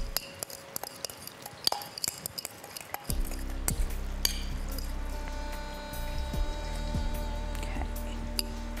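Ingredients stirred together in a bowl for a dish with roasted red snapper and dry-aged steak tartare, with scattered clinks and scrapes of a utensil, then a steady low hum underneath the mixing.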